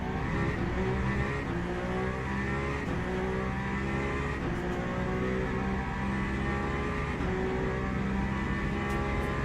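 Race cars in Le Mans Ultimate at Spa, a Peugeot leading a pack of BMWs, produce a continuous loud engine drone with layered harmonic whines shifting in pitch as several cars run close together, steady throughout with no gaps.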